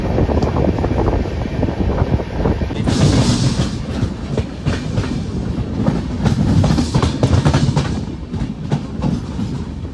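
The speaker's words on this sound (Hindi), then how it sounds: "अभी फिलहाल आ चुकी है हमारी ट्रेन पठानकोट" An Indian Railways passenger train, the Pooja Express from Ajmer to Jammu Tawi, runs near Pathankot, heard from inside a general coach as a loud continuous rumble with rattling wheel clatter throughout.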